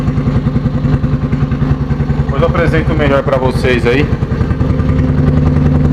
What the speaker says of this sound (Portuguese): Esse vídeo aqui é só pra mostrar o barulho do escapamento